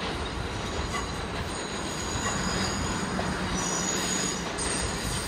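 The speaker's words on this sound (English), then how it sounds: "There's a D train." A New York subway D train rounds a curve through a rail yard, its steady rolling roar and wheel squeal filling the whole span at close range, with no talking.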